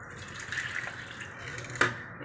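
Three cups of water pour into a kettle already holding carrot and tomato for veg Maggi noodles, a soft continuous splashing trickle, fairly quiet and close, with a brief brighter splash near the end.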